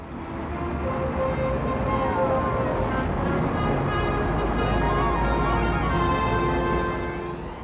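Busy 1964 traffic on Oxford Street in London, a steady dense roar of motor vehicles with engine hum and faint tonal whines, continuous throughout.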